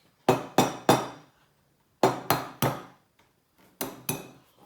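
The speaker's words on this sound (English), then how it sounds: "grab your egg and crack it on the side" An egg is knocked against the side of a bowl or pan: three quick sharp taps, a pause, three more, then two more, close and clear with no voices.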